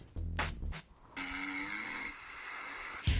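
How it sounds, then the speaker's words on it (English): Snoring recorded overnight by a phone microphone in the Snore Lab app and played back, a few rough, breathy snores and snorts with a faint steady hiss, no speech. "The sad thing is, that's me snoring."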